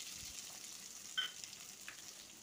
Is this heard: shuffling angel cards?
no